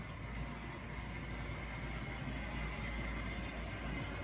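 Restored Tri-ang Hornby model locomotive pulling a shortened tanker train, a steady close motor whir with a constant low rumble of wheels on track, continuous and working hard throughout.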